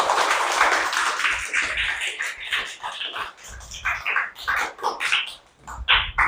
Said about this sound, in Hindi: इनके लिए एक बार फिर से सबसे ज्यादा जोरदार तालियां हो जाएं